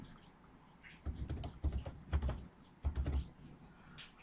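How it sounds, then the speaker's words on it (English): Keys on a computer keyboard are tapped in several quick clusters while a password is entered, close and fairly quiet, with short pauses between bursts. "you type in your password"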